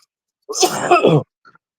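A single short, explosive sneeze or throat-clearing burst erupts close to the mic from a man, lasting under a second amid otherwise quiet surroundings.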